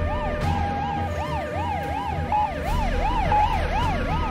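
An ambulance siren wails in a steady, repeating up-and-down pattern, loud and close over a low rumble of traffic, with no talk.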